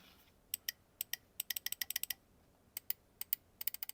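Crisp clicks from a Wayzowl OGM Pro mouse with TTC switches, arriving in quick irregular bursts and pairs, close and light against near silence.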